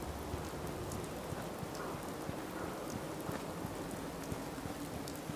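Steady rain pours in the Fallout 4 game world near Diamond City, a dense, even hiss of falling drops with small spattering ticks, continuous and fairly loud with no voices.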